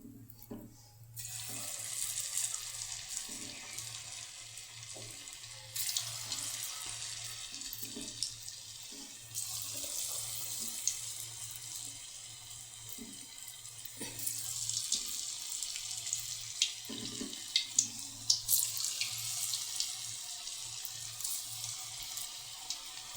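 Manchurian balls deep-frying in hot oil give a steady, close sizzling hiss with swelling bubbly bursts over a constant low hum, no voices.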